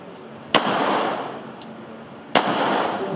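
Two sharp gunshots crack about two seconds apart during kneeling firearms drills in pressure shooting training, each loud and close with a short echoing tail and no talking between them.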